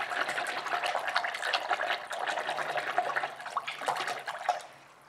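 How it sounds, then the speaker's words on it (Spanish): Paintbrushes rinsed under clean running water after washing with dish soap, a steady splashing stream that fades out at the end. "esto nada más se enjuaga con agua limpia"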